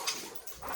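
A big dog whimpers in short, faint whines, heard at a distance indoors, two brief rising cries within under a second.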